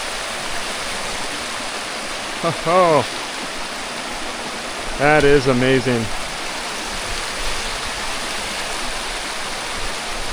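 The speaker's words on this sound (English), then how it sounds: "Look at this waterfall." A waterfall and rushing stream in the Great Smoky Mountains give a steady, full roar of falling water throughout, while hikers briefly exclaim over it twice.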